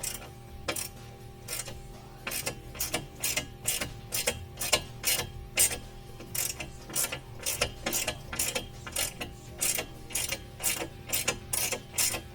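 A hand ratchet removes T30 Torx fasteners on a Jeep Wrangler JL, clicking in close repeated bursts of quick pawl ticks with short pauses between strokes.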